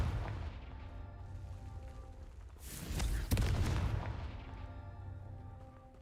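In the video game Hogwarts Legacy, a Confringo spell bursts into a sudden explosion midway, a loud boom with crackling debris rising out of a low ambient game hum that settles back afterward.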